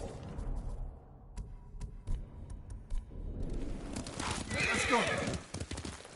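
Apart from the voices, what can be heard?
horse hoofbeats while riding, from the video game Ghost of Tsushima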